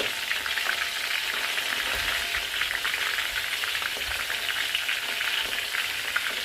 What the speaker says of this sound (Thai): ทอดไส้กรอกอีสานแซ่บๆหอมห้วยห้วยอยู่หน้าเตาเลยค่ะพี่น้อง